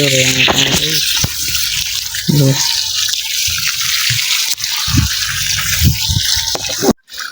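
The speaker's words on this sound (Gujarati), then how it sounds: "હમણાં વાડામાં પાણી પાય છે" Water gushes steadily into a yard, a broad continuous rush running under intermittent talk, with a few splashy bursts before it cuts off abruptly near the end.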